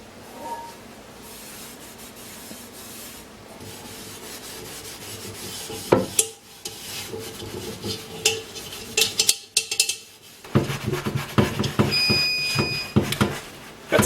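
A cast iron pan being washed and scrubbed, with rubbing and scraping strokes, metallic clinks of the pan and a stretch of running water, close and fairly loud, no speech.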